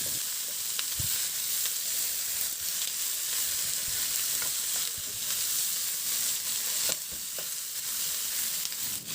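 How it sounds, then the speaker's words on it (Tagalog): Pork sautés with onion and garlic in a hot pan, giving a continuous loud sizzle with scattered scraping and clinking from stirring. "Ihalo lang din hanggang sa masama lang din sa paggisa yung karni."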